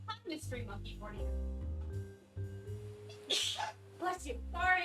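A cartoonish character sneezes in the Frog Detective video game: one sharp, close burst of breath amid playful, voiced character sounds and music-like tones.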